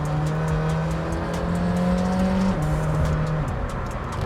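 A hypercar accelerates hard on the motorway, its engine note droning and rising steadily under loud cabin road and wind roar, with one quick shift partway through.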